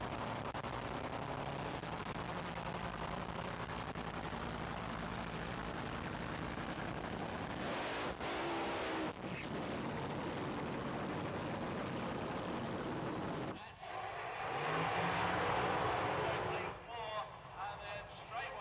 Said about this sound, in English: Both cars, having completed their burnouts, pulled back behind the start line